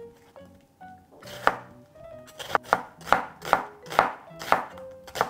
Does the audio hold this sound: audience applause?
no